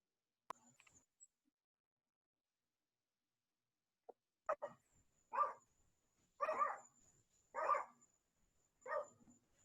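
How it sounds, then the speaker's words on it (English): Several dogs bark from a distance in a home, a short yip at first and then a run of five spaced, fairly faint barks after a quiet pause. "My dogs are barking in the background."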